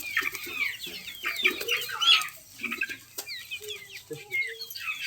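Village chickens and young chicks on their 26th day huddle under a heat bulb in cold weather, with continuous overlapping clucks and peeping chirps close by, plus a few wing flaps.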